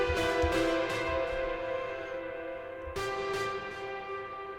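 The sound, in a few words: saturation with reverb and delay effect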